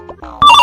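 A telephone rings in a Maithili village comedy scene, its bright electronic trill bursting in loud and steady after a brief stretch of quieter background, with no talking over it.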